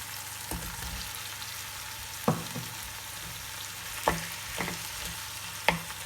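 Potatoes going into a pan of sautéed tomato and onion, a faint low frying hiss broken by several sharp spoon knocks and scrapes against the pan at uneven intervals.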